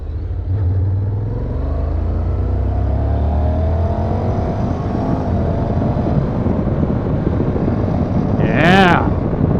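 A 2014 Honda CTX 700 DCT motorcycle pulls away briskly, its engine note rising through a steady, close drone mixed with wind rush, and a short sweeping whine appears near the end.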